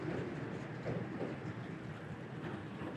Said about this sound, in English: Quite rare to see a train go across Long Bien Bridge.